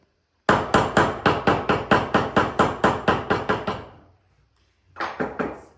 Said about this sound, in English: then you're gonna hit the top with the hammer.